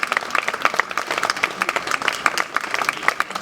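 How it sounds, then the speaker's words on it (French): Applause from a crowd at a rally of railway workers, a dense steady patter of many hands clapping close by, sustained throughout with no voices standing out. "donc je pense qu'on peut l'applaudir."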